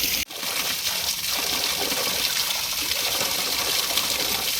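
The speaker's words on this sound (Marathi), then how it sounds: "जेम्सच्या गोळी एवढा धबधबा आम्हाला भेटलेला आहे" A small waterfall at Karanjade near Lonavala rushes steadily, a constant close hiss of falling and splashing water that stays even throughout.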